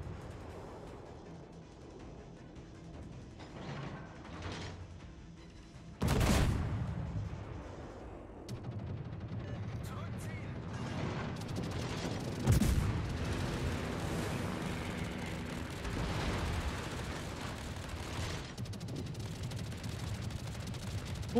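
Enemy warship gunfire in World of Warships thumps and booms at a distance over a constant rumbling backdrop. Two heavy impacts hit closer and louder.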